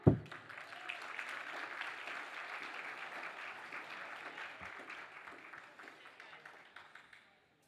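Audience applause fills an awards ceremony hall for public bodies' corporate governance honours, starting with a sharp onset and holding as a steady, even wash of clapping before tapering off near the end.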